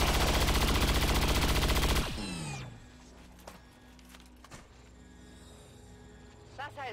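Rapid automatic gunfire from XCOM 2 blasts loud and dense for about two seconds, then cuts off into quieter game ambience with a few faint later clicks.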